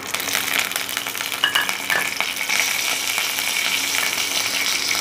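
Mustard seeds, fenugreek and curry leaves fry in hot oil left over from frying brinjal, giving a steady, close sizzle with scattered crackles and pops throughout, and no voices.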